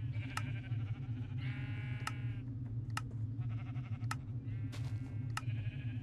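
Minecraft sheep bleat repeatedly in short, wavering calls over a steady low hum, with several bleats spaced across the stretch.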